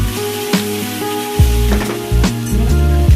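Tomato and vegetables frying and sizzling in a pan while cooking khushka, a steady loud sizzle with a few sharp clinks and stirring scrapes over a low hum.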